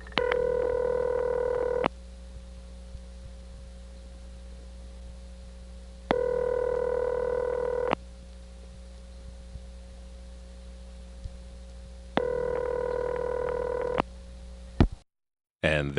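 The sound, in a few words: telephone dialing and ringing on a five-digit trunk, 1976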